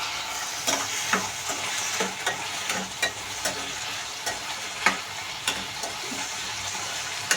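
Spices are sautéed in a pan for chicken curry, giving a steady close sizzle with regular scraping and clinking strokes of a spoon stirring through the mixture.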